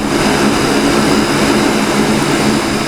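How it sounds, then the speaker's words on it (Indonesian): A Super Hercules A-1339 military transport aircraft landing at Minangkabau International Airport in Padang, its propeller engines producing a loud, steady roaring drone that fills the whole moment without a break. "Pesawat Super Hercules A1339 mendarat di Bandara Internasional Minangkabau, Padang."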